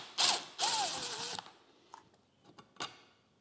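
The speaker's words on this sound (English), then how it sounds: "So this is where we use the electric screwdriver, and I find that it helps to have an extension on the screwdriver." An electric screwdriver with an extension backing out a JL Audio W7 subwoofer mounting screw: two short whirring bursts, then a few faint clicks and taps, quiet and close.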